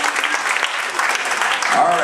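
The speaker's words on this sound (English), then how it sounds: "give our taste testers a round of applause," Audience applause for taste testers at a shipboard bartending contest aboard the Star Princess, steady clapping filling the room with some voices mixed in.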